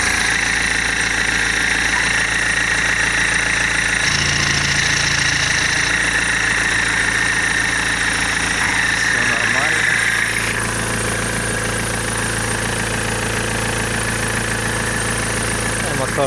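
A 2006 BMW 320d with a 2-litre diesel engine idles steadily with a close, constant clattering hum, while someone talks over it.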